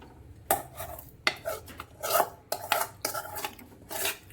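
Potatoes and bhungra are stirred in a metal cooking pan, with close scraping and clinking of a spoon against the pan in irregular strokes every half second or so.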